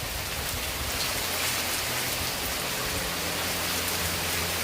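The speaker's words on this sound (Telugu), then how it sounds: "ఈరోజు ఎక్కువ పడుతుంది వర్షం." Heavy rain pours down steadily and densely, a loud continuous hiss of drops hitting surfaces with no pauses and no voices.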